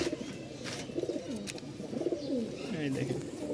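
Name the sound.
pigeons cooing, Giribaz flying pigeons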